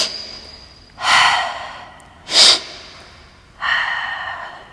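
A Pilates instructor exhales audibly during bicycle twists, three strong breathy puffs about a second apart, close and loud with quiet pauses between.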